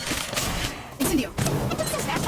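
The Incendio fire spell is cast in the Harry Potter Magic Awakened video game, giving a sudden burst of crackling, crashing impact over game noise, with a voice speaking nearby.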